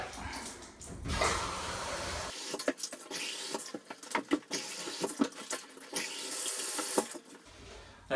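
Water poured from a cup rinses scrubbing-bubbles cleaner off a shower surface, a steady close splash that breaks into short uneven sloshes and drips, with no voices.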